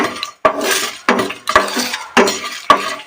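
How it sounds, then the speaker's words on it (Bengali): Repeated scraping and clinking of a utensil against a metal pan, dry roasting spices in quick bursts, close by with no voices. "তো আমরা এটা ভালো করে ভেজে নেব"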